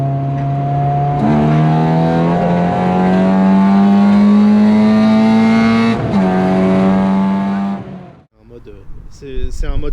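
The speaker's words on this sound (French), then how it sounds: "j'ai voulu mettre en évidence ce petit bruit sympathique, cette ligne inox" A BMW 5 Series E60 with a stainless exhaust and a manual gearbox revs loudly and close, its engine note climbing through gears with a couple of clear shifts before cutting off abruptly.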